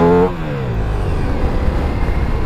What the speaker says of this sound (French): Je suis obligé de caler un rupteur pour les gosses.